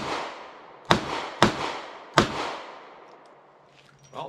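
A bobbed-hammer Charter Arms Undercover revolver fires three loud, sharp shots at an outdoor range, each followed by a long fading echo, then quiet with faint handling noise.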